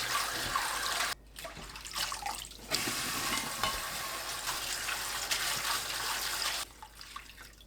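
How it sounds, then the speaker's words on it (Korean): Shredded cabbage soaked in vinegar water is rinsed under running water, a steady close splashing and trickling that cuts out briefly twice, with no talk. "헹구고 체에 받쳐둡니다"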